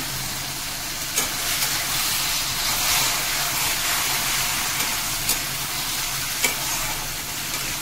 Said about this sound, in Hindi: मसाला अच्छा से भूनना है।